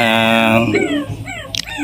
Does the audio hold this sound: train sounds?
no